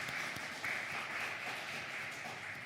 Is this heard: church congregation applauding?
yes